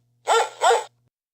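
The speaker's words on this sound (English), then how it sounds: "Dog." A dog gives two quick, loud barks close by, one right after the other, then falls silent.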